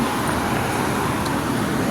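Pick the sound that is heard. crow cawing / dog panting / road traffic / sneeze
road traffic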